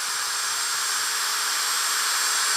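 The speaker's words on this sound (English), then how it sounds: "you could run this drill full speed for 7 hours" An electric drill whines at a steady high pitch, running continuously and loudly up close.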